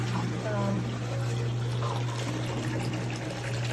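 Water drains from an Auertech portable washing machine into a sink as a steady trickling pour under a constant motor hum.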